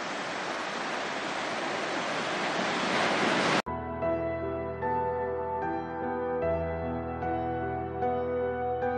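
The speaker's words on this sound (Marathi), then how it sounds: "एका बाजूला किनाऱ्यावरील खडकांवर फेसाळत आदळणाऱ्या लाटा आणि त्यांची गाज" Heavy surf crashes steadily against the rocky shore of Kasheli Beach in Ratnagiri, loud and continuous for a few seconds before cutting abruptly to music.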